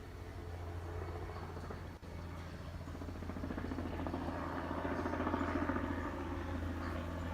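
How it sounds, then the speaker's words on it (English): Military helicopters flying over a crash site, heard as a steady low rotor drone that builds slightly louder over time, distant and continuous with no talk. "And you got military helicopters."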